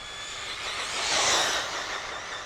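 A 1/8 scale RC short course truck's electric motor screaming at full throttle on 6S, a high whining rush that swells as it passes nearby and then fades.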